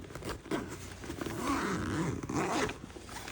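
A zipper on a Pacsafe GO 34L backpack is pulled open in a long, steady rasping stroke, close and clear, with a couple of shorter tugs near the end.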